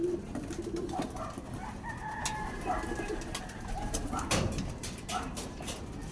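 A crowded flock of young pigeons bathing together on a hot day: soft overlapping cooing and fluttering with scattered splashes and wing flaps, faint and continuous.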